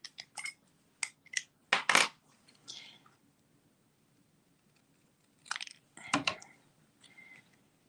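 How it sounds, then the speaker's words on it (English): Craft snips trimming cardstock for a birthday card in a few sharp crisp snipping bursts, close and fairly quiet, separated by silence. "So I'm just going to snip it with my snips."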